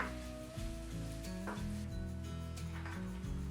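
Oregano and bay leaf stir-fried in a pan for a French lentil dish, giving a steady close sizzle and stirring scrape under a continuous low hum, with no voices.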